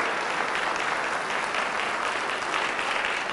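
Congregation at a Catholic healing and deliverance service giving loud, sustained applause, a dense even roar of clapping throughout with no speech on top.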